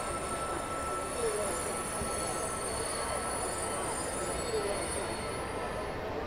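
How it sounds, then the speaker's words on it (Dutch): Freight train rolling along in Train Simulator 2017 at Krammendijk, a steady broadband rumble of wheels and cars with a faint squeal, continuous and even throughout with no voices. "de cargo trein rijdt weer verder"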